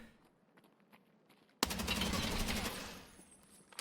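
Rapid burst of automatic gunfire from pre-firing in the video game Escape from Tarkov, loud and sustained for over a second after a quiet lead-in with faint background ambience.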